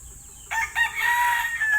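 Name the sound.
chickens, rooster crowing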